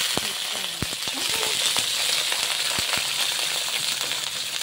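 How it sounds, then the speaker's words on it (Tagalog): String beans (sitaw) crackle and sizzle in hot oil in a pan, a steady loud spatter broken by sharp pops and clinks from stirring. "Sitaw naman. Iprito natin."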